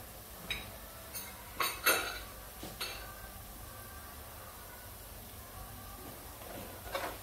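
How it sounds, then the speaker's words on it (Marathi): A spoon stirs Aagri masala, turmeric and garam masala into oil in a metal pan, making a few scattered close clinks and scrapes, faint against a steady background hiss. "तेलामध्ये आता मी हे मसाले मिक्स करून घेते"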